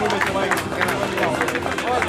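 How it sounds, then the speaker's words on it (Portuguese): Audience applause and crowd hubbub at a half-marathon awards ceremony in Amarante, a dense steady wash of clapping filling the short moment with no break. "Uma salva de palmas então para o Paulo Costa."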